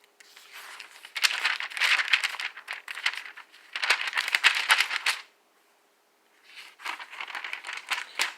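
Thick Cambridge Bible paper pages being flipped and rustled up close, in several bursts of crisp crinkling with a short quiet pause between them.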